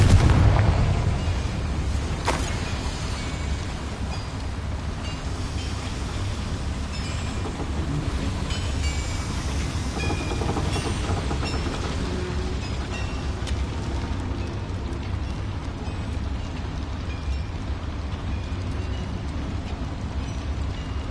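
Spell blasts from Bombarda and Confringo in the video game Hogwarts Legacy, a loud booming impact at the start that fades into a long, heavy, rumbling roar lasting the whole stretch.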